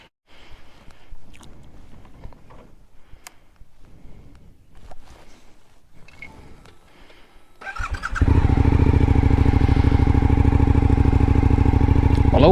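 A motorcycle engine at a camping area fires up around eight seconds in and settles into a loud, steady idle close by, after several seconds of quiet rustling and faint handling noises.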